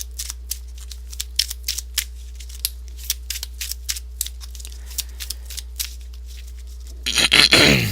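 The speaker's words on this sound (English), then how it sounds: "Gotta make sure I shuffle really good." Pokemon trading cards riffled and tapped by hand, a run of short crisp snaps and flicks at close range, ending in a louder burst of rapid fluttering shuffle, with no talking.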